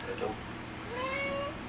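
A cat gives a drawn-out meow at close range while a person speaks softly nearby.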